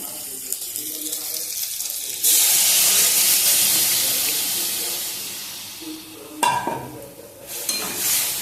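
Boiled masoor dal poured into a hot frying pan for dal fry, a sudden broad rushing pour and sizzle that fades gradually, followed by a few scraping stirs and a fresh hiss near the end, preceded by quieter frying sounds.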